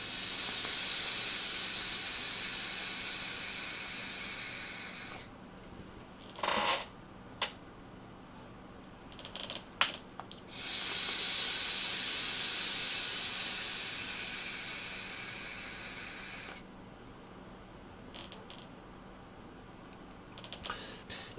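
Asmart 40W Pocket Rocket box mod vaped in two long draws, each a steady close airy hiss lasting about five seconds, separated by faint clicks and taps.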